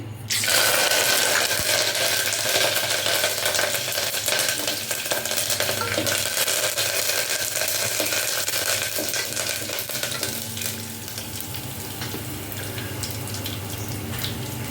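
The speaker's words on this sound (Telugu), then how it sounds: "తర్వాత మెంతులు, ఆవాలు, జీలకర్ర, ఇంకా కరివేపాకు వేస్తానండి" Fenugreek seeds, mustard seeds, cumin and curry leaves hit hot oil in a pan, a loud burst of sizzling and crackling that settles into a steady fry, with stirring, for the rest of the stretch.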